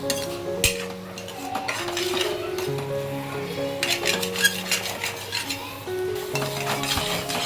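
A coconut, onion, garlic and ginger masala roasting in oil in a pan, with a continuous soft sizzle under repeated scraping and clinking of a metal spoon against the pan.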